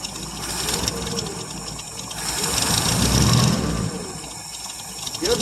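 A 1959 International B120 4x4 truck engine runs on its first cold start in years, a steady loud mechanical clatter that swells as the throttle is held, then eases back.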